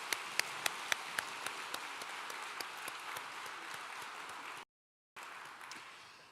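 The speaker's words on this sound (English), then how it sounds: "Let's give them another round of applause." Audience applause after a beautiful performance at an awards evening honoring World War II veterans, a dense steady patter of many hands with a few sharper claps, fading then cut short by a brief silence before resuming.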